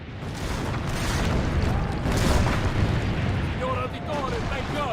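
Cannon fire during a siege battle in Assassin's Creed Brotherhood, a loud continuous rumbling boom with blast noise and battle chaos throughout, and a voice heard faintly underneath.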